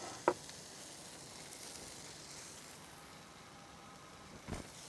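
A salmon steak frying in a pan gives a soft, steady sizzle heard close up, with a sharp clink at the start and another brief clatter near the end.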